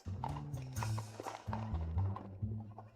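A donkey's hooves clop along on a hard surface in a rapid, steady rhythm, close and fairly quiet, with a low musical score sounding beneath.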